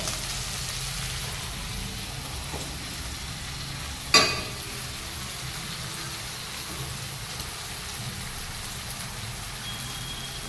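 Potato filling with boiled peas is stirred in a pan over a low flame, a faint continuous sizzle with one sharp clink of a utensil partway through, close and quiet.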